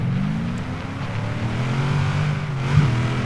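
An old Ford Mustang's engine hums and revs steadily in the racing game Forza Horizon 3, a continuous close drone that rises slightly in pitch with a brief bump near the end.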